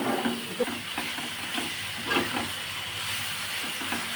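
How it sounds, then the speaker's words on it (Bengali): Dry chili paste sizzles with garlic in a pan for lote fish paturi, a steady steamy hiss with soft rhythmic swells as it is stirred. "এবার আমি এই লঙ্কাটা, শুকনো লঙ্কা বাটাটা দিয়ে দিলাম, দিয়ে বেশ নাড়িয়ে নেব।"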